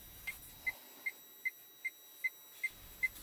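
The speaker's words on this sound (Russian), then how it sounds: "Аварийная сигнализация." Hazard warning lights in a Lada Largus Cross tick in a steady, even rhythm, roughly two to three clear ticks a second, alone in a quiet car interior.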